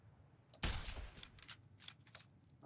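Gunshots fired at geckos in the video game Fallout New Vegas, a loud close blast followed by several scattered quieter shots and impacts with no talking.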